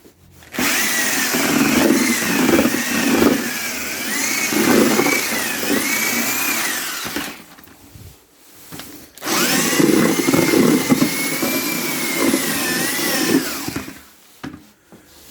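A Shield-borne mixing drill churns grass and pellets in a pail on a ranch, two long whirring runs with wavering pitch and a short pause between them, close and loud.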